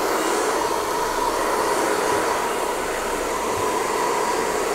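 A hair dryer fitted with a nozzle blows on a beard, giving a loud, continuous, steady whoosh close by with no break.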